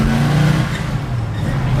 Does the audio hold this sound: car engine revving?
yes